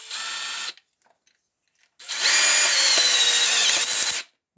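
Cordless drill driving a Uniweld UDFT tool, two whirring bursts at close range, a short one and then a longer, louder run of about two seconds, with a brief pause of near silence between them.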